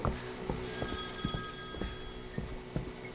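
A telephone rings in the horror game Home Sweet Home: Survive, a bright electronic trill holding for about a second, over a repeating low thumping rhythm, fairly close and alone.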